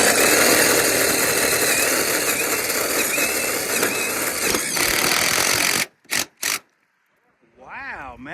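A power tool drives a screw through chimney flashing into a roof rafter, a loud, steady whirring grind that runs for several seconds. It stops abruptly, followed by a few short bursts and a brief voice.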